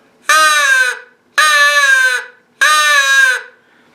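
A Primos crow call blown at low volume gives three loud, evenly spaced, drawn-out caws, each about half a second long, close and clear against near silence.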